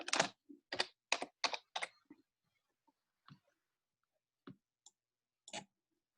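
Keys on a computer keyboard tapped in short bursts, a quick run of five or six clicks followed by a few scattered, fainter single keystrokes with pauses between, close and clear with no talking.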